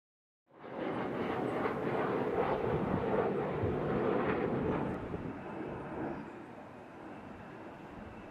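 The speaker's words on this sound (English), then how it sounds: "these are just planes that are coming in to Venezuela" Planes arriving in Venezuela produce a loud, continuous broadband roar that rises suddenly and holds steady, then eases slightly toward the end.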